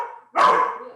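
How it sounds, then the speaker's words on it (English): A dog barks once, loud and close, a single sharp bark that trails off, following a brief stretch of quieter background sound. "my dog barking."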